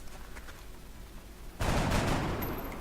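A soldier's gunshot in XCOM: Enemy Unknown, a sudden loud burst of fire breaking out of a quiet background and trailing into sustained rattling, with no voices.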